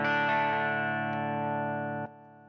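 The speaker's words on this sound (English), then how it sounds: "So on the left you have like a tape overdrive saturation." A guitar runs through a Strymon Deco pedal's tape overdrive saturation: one saturated chord rings loud and sustained, decays slowly and is cut off after about two seconds.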